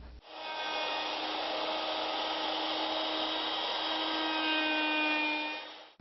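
A router cuts wood for a wall clock, a sustained high whining drone with a rasping edge that starts abruptly, holds steady for several seconds and then stops.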